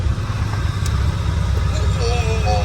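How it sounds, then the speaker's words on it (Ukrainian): A Suzuki Carry van engine idles with a steady low rumble throughout, close by, while a voice speaks faintly over it. "Слухай, робота двигуна."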